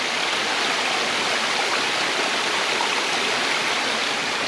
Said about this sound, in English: And there's this little stream going on here.